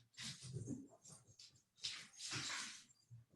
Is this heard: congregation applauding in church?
no